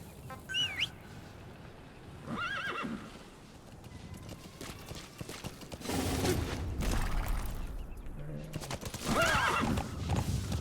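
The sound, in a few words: horse neighing and galloping in video game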